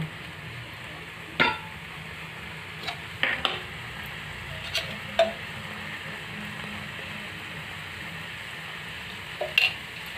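Pumpkin paratha chutney mixture cooking in oil in a pan while it is left to simmer until the oil separates, with a soft steady sizzle and a few light scattered stirring clicks and taps.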